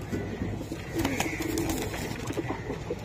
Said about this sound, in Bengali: এই যে মাদি জাম্পার কবুতর দেখেন